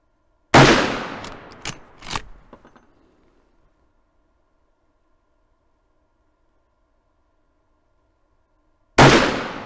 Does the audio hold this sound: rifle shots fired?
yes